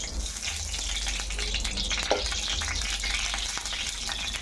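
Steady crackling sizzle of oil sputtering in a hot wok from a little water in the oil, continuous and fairly close, with a few sharper pops, no voices.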